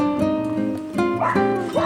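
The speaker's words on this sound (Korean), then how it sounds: "영국사에 사람들이 찾아오면 절집 강아지 삼덕이가 먼저 알아챈다" A puppy at Yeongguksa, a Korean mountain temple, gives a quick string of high yips and barks at arriving visitors, close and loud, with a faint whimpering edge.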